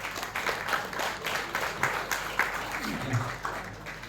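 Audience applause at a prize distribution ceremony for a three-month training program, a steady burst of clapping lasting the whole moment, fairly close and even in loudness.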